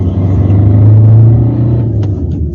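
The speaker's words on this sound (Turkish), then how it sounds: "Tabi dizel ünite e, karakter itibariyle sesli ve kısmen de içeriye bu sesi alıyor." Diesel engine droning inside the cabin of a 2012 Fiat Linea Easy, a loud, steady low-pitched rumble that holds throughout with no speech.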